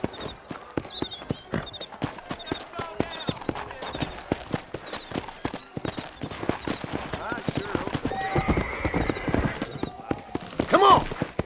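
A horse gallops in the Red Dead Redemption video game, with rapid, continuous hoof clip-clop and a whinny near the end, while voices talk over the hoofbeats.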